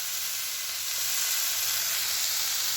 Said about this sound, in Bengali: আমার এই যে ডিমের শাকের ভাজাটা হয়ে এসছে